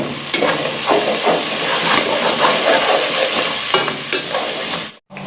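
Cumin and spices sizzling in hot ghee for a dhaba-style chana dal fry, a steady loud crackle with scraping stir strokes throughout, cutting out briefly near the end.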